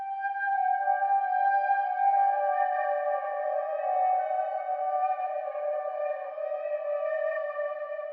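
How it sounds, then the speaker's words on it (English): A flute-like instrument plays back through reverb, delay and modulation effects only, producing sustained, shimmering tones that shift pitch slightly near the start and ring on smoothly and faintly for several seconds. "you can hear I'm using reverb, delay, and modulation only during the playback"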